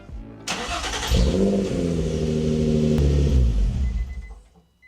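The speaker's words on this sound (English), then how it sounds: "Now we're going to turn the car on" A Nissan 350Z engine cranks and catches, then settles into a loud, steady idle with a slight rev before cutting off.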